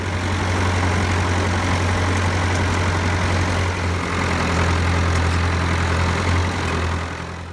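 A farm tractor engine idles steadily at close range, a deep low rumble holding even and loud throughout with no voices.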